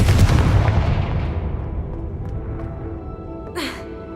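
Confringo blasting curse cast in the Hogwarts Legacy video game: a loud, close fiery blast that rumbles and slowly decays over several seconds, with a brief whooshing burst near the end.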